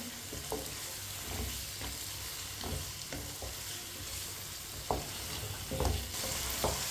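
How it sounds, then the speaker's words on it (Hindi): Peas and cauliflower cook in a pan over medium heat while a spoon stirs them, giving steady frying sizzle with a soft crackle and repeated scraping clicks of the spoon, close up and with no voices. "अब इसे 2 मिनट के लिए पका लेते हैं चम्मच चलाते हुए।"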